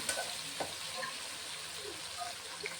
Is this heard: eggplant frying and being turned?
yes